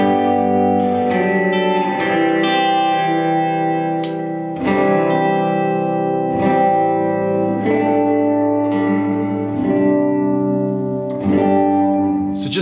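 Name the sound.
Fender Tre-Verb pedal tremolo and reverb on guitar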